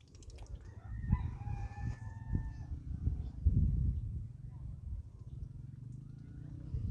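Geese honk a few times at a moderate distance in an Aeta community setting, the calls bunched near the start over a steady low rumble and background murmur.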